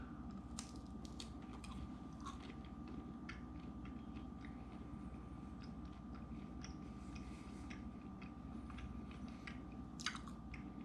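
Someone chews homemade venison jerky up close in soft, repeated bites, with quiet clicks and squishes over a low background hum.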